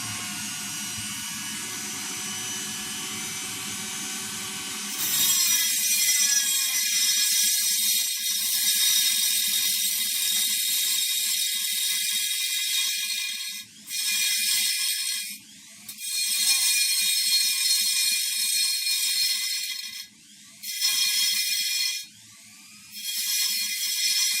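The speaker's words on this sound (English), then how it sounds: "next thing I'm going to do is I'm going to hit this with the Dremel" A Dremel-style rotary tool buffs an aluminum barrel sheath, its high steady whine beginning after a quiet start and cutting out briefly several times before spinning back up; no speech.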